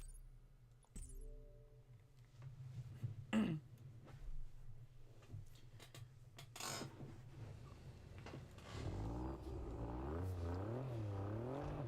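Car driving in the racing video game TDU: Solar Crown, engine droning low and then revving up with wavering pitch toward the end, mixed with a few clicks and a throat-clearing sound.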